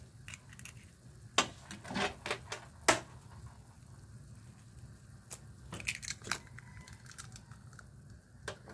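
Eggs are cracked into a preheated container for steaming, with a few faint, sharp cracks and crunchy taps scattered over a quiet kitchen background.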